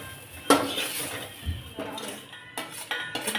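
Cooked chicken is spooned from a pan onto a plate, giving a few close metallic clinks and scrapes of a spoon against cookware, spaced irregularly over a quiet background with no talking.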